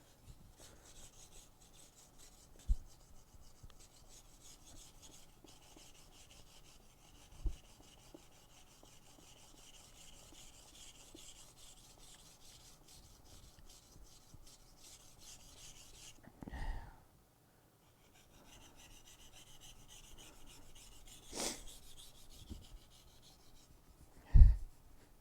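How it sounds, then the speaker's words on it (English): Slow, steady rasping of a hand file sharpening a tool edge near its handle, repeated strokes at close range with a few sharp knocks and brief pauses, no talking. "Forgot how long hand sharpening takes."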